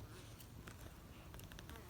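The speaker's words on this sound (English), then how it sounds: "A lot of guard bees on the front of this one." Honey bees droning at the entrance of a hive, with many guard bees out front. The buzzing is close and dense, forming a steady hum with a few louder individual passes.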